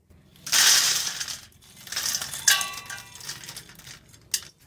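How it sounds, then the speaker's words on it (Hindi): Edible gum (gond) being broken up in an open cooking vessel: bursts of crunchy cracking and clinking, close and moderately loud, in a few separate episodes with pauses between. "अब गोंद को हम खुले से बर्तन में डालकर तोड़ लेंगे।"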